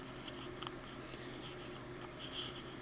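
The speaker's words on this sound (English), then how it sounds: "Fold the paper in half." Paper being folded in half for a water blossom flower craft gives soft, faint crinkling and creasing rustles in brief irregular bursts close by, with no talking.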